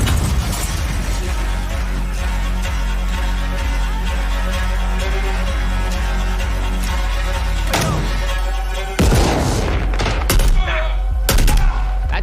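SCAR-L rifle gunfire in Modern Warfare 2, loud sustained rapid automatic bursts with a steady pulsing rhythm, a short pause, then more sharp cracks, with voices faintly underneath.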